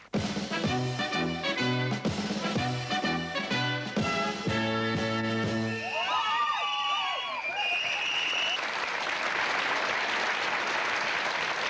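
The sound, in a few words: TV show studio audience applause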